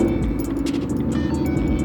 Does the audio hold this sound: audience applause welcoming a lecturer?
no